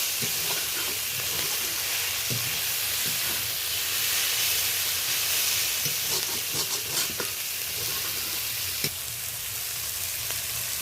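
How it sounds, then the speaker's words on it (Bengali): Shrimp frying in a pan with onion, tomato, green chili and garlic paste, a steady loud sizzle and hiss with occasional scraping stir sounds, close and with no speech. "রসুন বাটাটা তোমার চিংড়ি মাছ আর পেঁয়াজ কাঁচা লঙ্কা টমেটোর সাথে বেশ ভালো করে কষিয়ে নেব"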